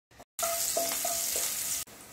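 Garlic and two red chillies sizzle loudly in hot oil for a Marathi methi besan zunka tempering, a steady crackling fry with brief stirring clinks, cutting off abruptly near the end.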